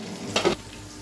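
Spiced arbi, or taro root, frying in oil gives a steady soft sizzle with two quick brushing clatters near the start.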